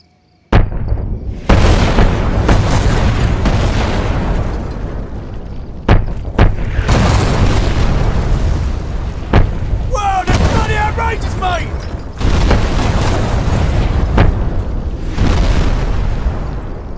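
Heavy artillery explosions land danger close during a Call of Duty 4 battle, a dense rolling barrage of loud booms and crashes with several sharp bursts, while radio voices talk over the din.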